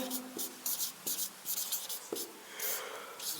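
Pen scratching on paper while the fourth term of an arithmetic progression is handwritten, short quiet strokes in quick irregular bursts, close by with no talking.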